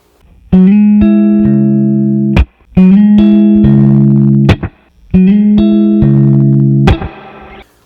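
Electric guitar chords ring out through an amp with a light reverb tail, played in three separate strums with short pauses between, no voices.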